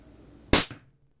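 Compressed air hisses out as the bleed valve on a PCP airgun filling tank is opened, a single sharp loud burst lasting about a quarter second before cutting off to silence.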